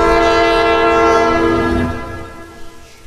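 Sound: passing train with horn in Roblox horror video game

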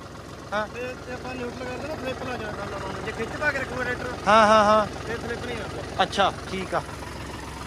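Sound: tractor engine idling in neutral

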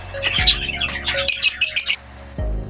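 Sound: pet bird feeding its chicks

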